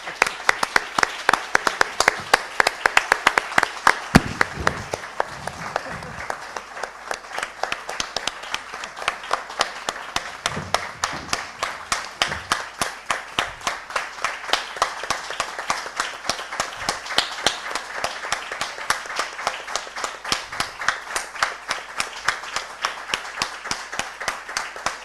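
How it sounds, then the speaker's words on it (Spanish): Conference audience applauding in sharp, rhythmic, steady claps for a sustained stretch, with a few brief voices underneath. "Pido un fuerte aplauso"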